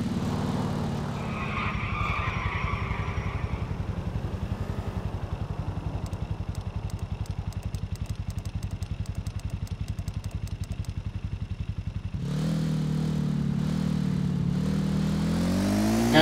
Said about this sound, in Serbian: Upravo smo ukrali motor